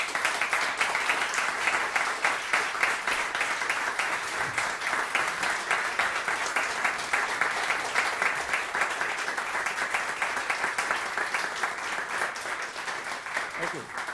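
Concert audience at the opening of a recital hall applauds performers, dense continuous clapping from many hands filling the room, steady and moderately loud throughout.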